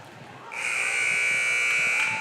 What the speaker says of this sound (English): as the warm-up buzzer sounds